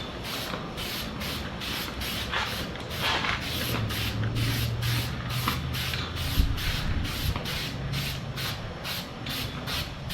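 An aerosol spray can coats a car headlight lens from about six inches away in short, fast bursts, a steady run of close hissing puffs repeating about twice a second.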